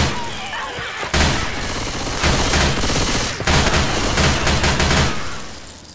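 Sustained bursts of gunfire from the zombie shooter game Left 4 Dead 2, loud and dense, with rapid volleys that pause briefly and resume, continuing for several seconds.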